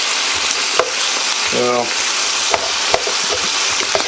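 Onions and other ingredients for Guinness stew sizzle steadily in a pot while a spoon scrapes and knocks against the sides, making occasional sharp taps. A voice speaks briefly in the middle.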